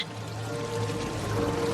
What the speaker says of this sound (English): Please do not touch the waterfall.